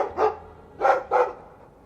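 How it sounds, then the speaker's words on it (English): A dog in the video game Dragon Age II barks three times, with one sharp bark followed after a pause by two quick ones. The barks are close and loud, with no talking. "I like the doggy."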